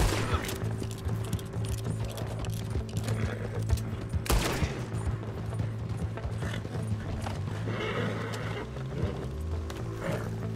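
Gunfire from the video game Red Dead Redemption II, with rapid shots crackling over a busy background of horse hooves clip-clopping and mechanical noise, one loud burst standing out midway.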